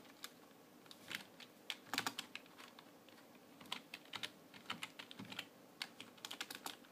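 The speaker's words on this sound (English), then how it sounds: "Type in with one hand." One-handed typing on the keyboard of a Dell Optiplex GX150 running MS-DOS 6.22: quiet, uneven clicks, single and clustered, sounding close and alone for several seconds.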